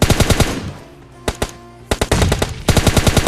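Rapid automatic gunfire in PUBG Mobile Lite, loud and close, with bursts of fast repeated shots broken by two single cracks and a short pause, then more sustained strings of rounds.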